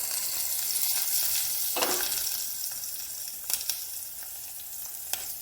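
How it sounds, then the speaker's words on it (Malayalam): Ground paste of coconut, shallots, salt, chili, turmeric and coriander powder frying in a pan for starfruit curry, a loud continuous sizzle that gradually softens, with a scrape and a few light utensil taps and no talking. "തേങ്ങ, ചുവന്നുള്ളി, ഉപ്പ്, മുളക്, മഞ്ഞൾ, മല്ലിപ്പൊടി, ഇതെല്ലാം കൂടെ ചേർത്ത് വെച്ചിരിക്കുന്ന നമ്മുടെ അരപ്പ്, അതിൻ്റെ പച്ചപ്പൊന്ന് മാറാനായിട്ട് ഇട്ട് കൊടുക്കാം"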